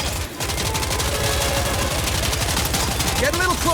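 Rapid, continuous automatic gunfire rattles throughout a scene in the video game Ananta, dense and loud, with game sound effects mixed in.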